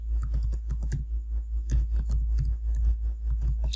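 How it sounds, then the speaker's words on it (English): A computer keyboard clicks as a domain name is typed, with quick irregular keystrokes close to the microphone over a steady low hum. "So let me just type it."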